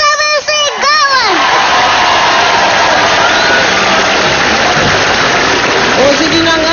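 Studio audience on a Filipino daytime variety show breaks into sustained, loud applause mixed with cheering and shouting, with a few high voices rising over the dense roar near the start.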